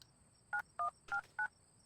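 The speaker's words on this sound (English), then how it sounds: "It's just a phone call." Four short telephone dialing tones beep in quick, evenly spaced succession in the Airport CEO video game, clean and close over a quiet background hiss.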